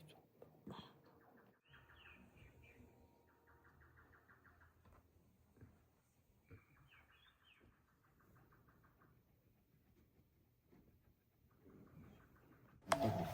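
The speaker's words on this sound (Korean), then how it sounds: "새소리 좀." Birds chirp and sing in short repeated bursts outdoors at a temple stay, fairly faint against quiet surroundings, with a few soft background noises.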